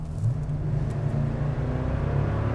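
A deep engine rumble builds steadily as a 2020 Toyota Sequoia TRD Pro with a 5.7-liter V8 accelerates, its low growl loud and continuous with no voices.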